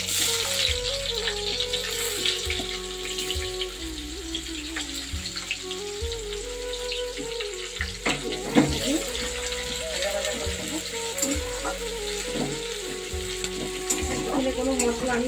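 Onions fry in a long-used, very hot wok, giving a steady close sizzle with stirring scrapes and occasional clinks, while a low tonal hum and a voice talking run underneath.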